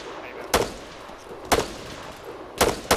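Three sharp, loud gunshots spaced about a second apart, each a hard broadband crack, laying suppressing fire on a building's windows in a shooter video game, with a faint noisy background between shots.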